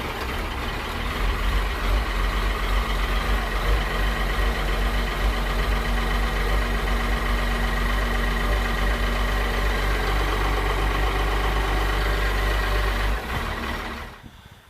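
A TC2000 bus diesel engine, cold after sitting several days in 48-degree weather, runs with a steady, loud, continuous rumble close by, holding an even idle before cutting off abruptly near the end.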